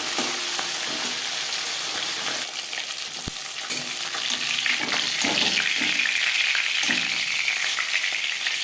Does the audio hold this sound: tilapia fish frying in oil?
yes